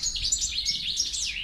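A goldfinch sings a rapid, twittering run of high bright notes and trills, loud and close, with no voices over it.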